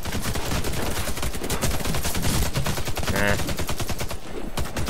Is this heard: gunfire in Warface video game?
yes